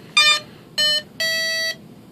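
An electronic speed controller in a Dynaflite Bird of Time RC glider powers up with three clear electronic tones: two short beeps followed by a longer one, loud and isolated against a faint hum.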